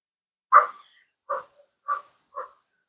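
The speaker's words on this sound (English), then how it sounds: "Who's barking, Rusty?" A dog barks four times close by, one sharp bark followed by three shorter ones spaced about half a second apart, with silence around them.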